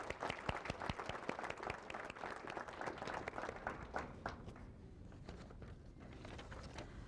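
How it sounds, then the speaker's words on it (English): A round of applause at a student awards banquet, strongest at the start with many distinct hand claps, then thinning and fading to scattered clapping toward the end; fairly quiet overall. "let's go ahead and give them a round of applause"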